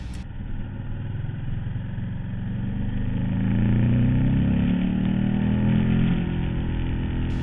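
A Honda CBR 1000 sport motorcycle on a group ride, its engine droning steadily and rising in pitch as it accelerates, with the hum swelling louder midway and holding strong.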